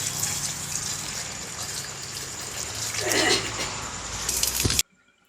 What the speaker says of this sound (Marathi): त्याला पण पाणी सोडलं तुळशीला पाणी सोडलं